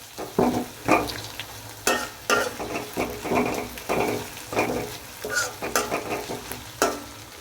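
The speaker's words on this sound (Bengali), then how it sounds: "গাজরটা গলে আসা পর্যন্ত আমি ভেজে নেব" Carrots and long beans fry in a pan with a strong, close sizzle broken by repeated scraping and stirring strokes of a spatula.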